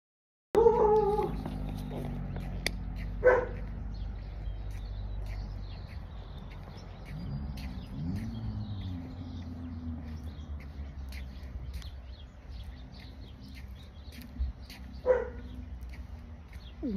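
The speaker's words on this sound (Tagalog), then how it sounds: "Masol na yung aso." A dog barks a couple of times, short and fairly distant, from the roadside beside a highway, over a steady low rumble of passing traffic.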